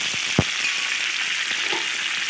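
Onions sizzling and frying in a pan for egg curry, a steady close hiss of hot oil with occasional soft knocks as they are stirred; no talking.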